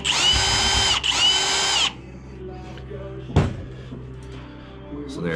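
A power drill backs a screw out of a Clopay garage door bracket, two short high whining bursts separated by a brief pause, followed by quiet clicks and a single knock as the part is handled.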